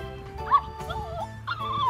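A toy puppy dog gives high electronic yips and whimpering whines while being fed, in several short bursts over a quiet background, close and fairly soft.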